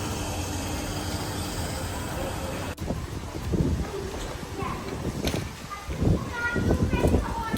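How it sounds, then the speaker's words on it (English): Strong wind buffets the microphone with a constant low rumble and irregular gusts; nobody speaks. "It's very windy as you can see"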